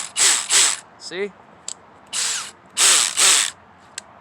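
A DeWalt 12V cordless drill runs in a series of short bursts, with whirring spins and a clicking, ratcheting clutch, up close. Someone speaks briefly between the bursts.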